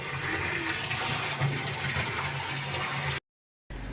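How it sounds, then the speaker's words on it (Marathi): Water gushes steadily from a borewell pump outlet, a loud, continuous rushing splash that runs unbroken for about three seconds before cutting off abruptly. "तर आज बोरिंगला बघा खूप पाणी आलं"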